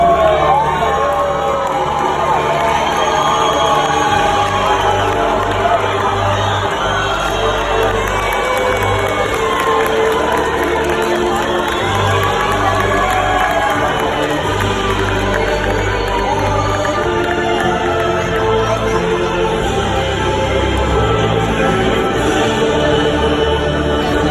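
A large crowd at a Medieval Times joust cheers and shouts without a break, with children's high-pitched yells and whoops standing out in a loud, dense, continuous roar that fills the arena.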